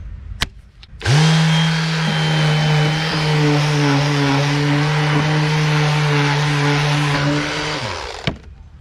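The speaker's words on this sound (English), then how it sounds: "take what we just hacked up with a utility knife and sand it with a sander" A power sander works lumber for a fake live-edge bench build, a loud steady electric whine with strong droning tones that starts abruptly, holds for about seven seconds and cuts off, with no talking.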